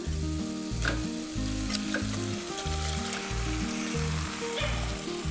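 Chicken, 1.5 kilograms, sizzles as it is added to frying spice powders in a pan, a steady loud frying hiss with stirring scrapes, no talk.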